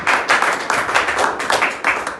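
Applause at an office gathering: a small group claps in quick uneven bursts, loud and close, with no talk over it.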